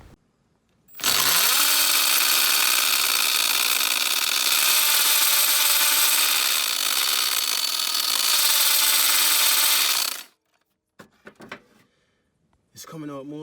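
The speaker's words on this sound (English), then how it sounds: "Drill time." A power drill drives a screw extractor into a seized bolt on a Lexus IS250 during a water pump job, whining loudly and steadily for about nine seconds, then stopping, followed by a few brief clanks and scrapes.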